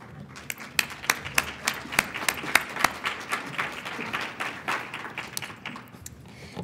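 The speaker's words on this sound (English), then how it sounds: "You're supposed to clap now." Scattered applause from a small audience at a community eviction prevention summit, with a few loud, sharp individual claps standing out at first before the clapping grows denser and softer.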